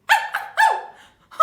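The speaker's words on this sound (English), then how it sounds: "Toto barked at him" A small dog gives several quick, sharp barks in a row, close and fairly loud, with short pauses between yaps and a final clipped bark at the end.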